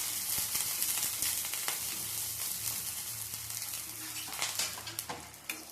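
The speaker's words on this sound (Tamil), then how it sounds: "வெங்காயத்தை நல்லா வதங்கிருச்சு." Onions sauté in a pan with curry leaves, a continuous close sizzle and hiss with scraping stirs of a spatula, no talk.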